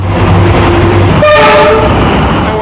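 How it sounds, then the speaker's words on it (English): A train rumbles past loudly and steadily while its horn sounds in two sustained tones, the pitch shifting midway as it goes by. "because the train is gonna come"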